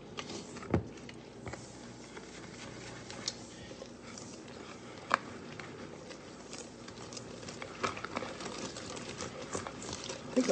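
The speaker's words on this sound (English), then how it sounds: "And now I'm just whisking it together." Buttermilk being whisked in a bowl, a faint steady ticking and tapping of the whisk with a few sharper knocks against the bowl, no talk.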